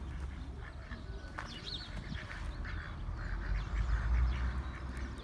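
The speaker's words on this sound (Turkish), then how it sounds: "Beyaz ördeğim var." A white duck quacks in short scattered calls at moderate distance among farmyard poultry, over a steady low rumble of background noise.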